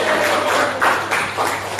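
A classroom of students claps for the winning group, a loud, dense, sustained patter of many hands that swells in a few surges without pause.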